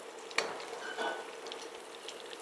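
Pomfret fish fries in hot oil with a soft, steady sizzle and crackle, punctuated by a couple of brief louder spits and faint utensil clinks, close and quiet with no voices.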